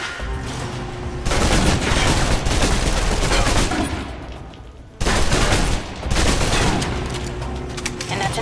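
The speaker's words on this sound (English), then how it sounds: "If you're trapped in close quarters with multiple opponents, the SMGs can help clear the room quickly." Submachine gun fire in Alpha Protocol, loud sustained automatic bursts in two long runs separated by a brief lull, dense and close with no talking.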